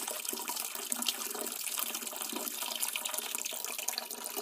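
Grape juice poured slowly during winemaking for a 2014 vintage: a continuous, even splashing hiss of liquid streaming into a container, steady and close with no talking.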